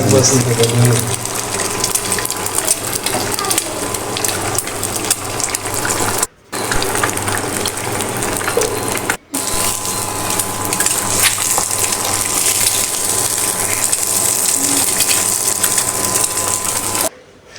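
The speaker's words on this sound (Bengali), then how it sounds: "এই ইন্ডাকশন কুকারে একসঙ্গে আমি অনেকগুলো ডিম ভাজবো" Several eggs fry together in a pan on an induction cooker, giving a loud, steady sizzle and crackle throughout, briefly cut out twice, with someone talking over it.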